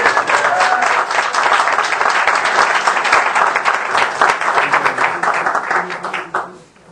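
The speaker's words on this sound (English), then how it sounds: "I think he deserves a big round of applause" Loud, sustained applause and clapping from an audience at a county Democratic Party meeting, steady for several seconds and then quickly dying away.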